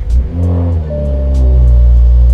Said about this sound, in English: I then like to cycle the power on the car and then fire it back up.